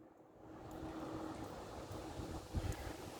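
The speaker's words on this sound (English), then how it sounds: "Getting windy." Steady wind rushes and buffets the microphone outdoors in a backyard as a thunderstorm approaches, a continuous roar with a few stronger gusts and no talking.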